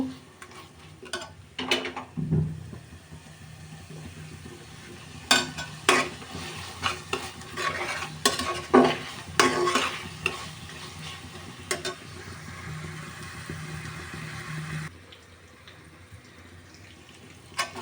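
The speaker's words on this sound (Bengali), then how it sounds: "ভালোভাবে মশলাটা আমি এখন কষিয়ে নেব" Spice paste of turmeric, chilli powder and salt fries in a pan for a beef curry, a low sizzle broken by repeated clattering spoon strokes and scrapes that come in bursts, then quiet near the end.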